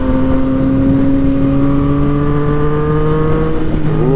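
A Yamaha FZ-09 motorcycle with an aftermarket quick shifter, heard while riding. The engine and exhaust hold a loud, steady note throughout with a slowly shifting pitch, close up and with no talking.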